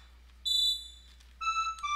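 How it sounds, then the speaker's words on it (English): Two bursts of high, steady electronic alarm tones, the second lower and harsher, sounding clearly over a low hum with short gaps between. "We've gotten a fire alarm."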